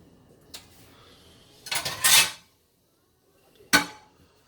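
Ceramic dish and utensils clinking while an egg drop burger is plated: a light tap, a short cluster of scraping clatters, then one sharp knock, close and clear in a quiet room.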